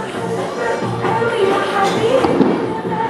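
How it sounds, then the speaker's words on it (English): Distant Fourth of July fireworks thump and crackle through a steady, busy background, with some murmured voices mixed in; the bangs are muffled rather than sharp. "if you guys hear fireworks behind me, that is the 4th of July fireworks"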